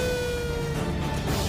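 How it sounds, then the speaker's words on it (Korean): An air raid siren sounding across South Korea, a loud, sustained, steady wail with layered tones that holds level throughout a short stretch. "어느 날 갑자기 대한민국에 울려 퍼진 사이렌 소리."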